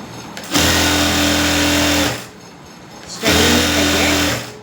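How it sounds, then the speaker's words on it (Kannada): A sewing machine runs a straight stitch along a folded neck strip in two loud, close bursts of about one and a half seconds each, with a short pause between them. "ಈ ಥರ ಫೋಲ್ಡಿಂಗ್ ಮಾಡ್ಕೊಂಡು ಒಂದು ಸ್ಟಿಚಿಂಗ್ ಹಾಕೋದು."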